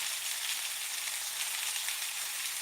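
Liver and onions sizzle steadily in a cast iron skillet, a dense, even crackle of frying with no pauses and no voices.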